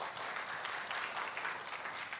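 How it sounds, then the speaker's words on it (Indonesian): A church congregation applauds during a sermon, a steady wash of many hands clapping together, moderately soft and even throughout, with no voices over it. "Tepuk tangan buat Tuhan."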